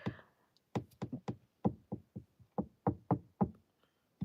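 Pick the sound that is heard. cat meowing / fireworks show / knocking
knocking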